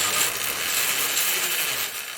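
A small hobby bandsaw with speed control runs steadily at close range, giving a continuous bright, hissy whir with faint mechanical clatter and no voices.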